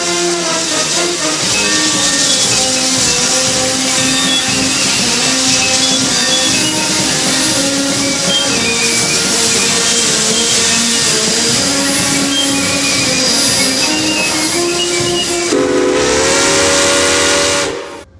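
Historic steam train pulling into the Santa Fe depot in San Bernardino for a Railroad Days festival, its loud, sustained steam whistle sounding continuously close by, with a pitch change near the end before it cuts off.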